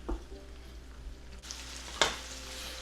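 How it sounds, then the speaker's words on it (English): Shrimp cooking in a pan with sun-dried tomatoes and garlic, a close, steady sizzle that intensifies partway through, with sharp bursts of spattering and stirring. "my shrimp are cooking nicely in the pan"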